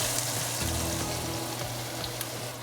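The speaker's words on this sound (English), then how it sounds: "over there in my pan, I've got the bacon cooking up, about 4 slices" About four slices of bacon fry and brown in a pan, a quiet, even, continuous sizzle and crackle heard from a short distance with no voices.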